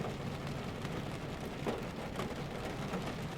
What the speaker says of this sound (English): It's raining, and I don't like getting rained on.